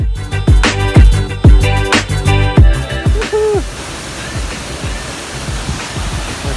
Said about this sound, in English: So I was surprised how big this waterfall was and that there was nobody here.